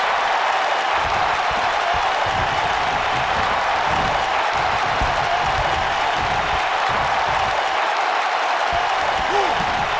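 A SmackDown arena crowd in the wrestling video game WWE 2K19 keeps up a steady roar of applause and cheering for the whole stretch, with voices talking over it.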